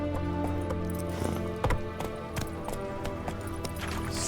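Roach, the horse in Witcher 3: Wild Hunt, gallops with a steady run of hoof clip-clops over a busy game soundscape of layered tones and scattered impacts, moderately quiet throughout.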